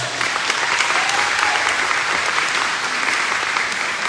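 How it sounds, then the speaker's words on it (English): Dense, steady applause from a large audience at a high school band concert fills the whole stretch, loud and even without a break. "can we give a round of applause for these people?"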